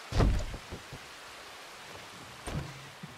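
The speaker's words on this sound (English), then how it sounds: "now it's raining?" Rain in the video game Red Dead Redemption 2, a steady, soft hiss of falling water, with a louder burst near the start and a few duller thumps toward the end.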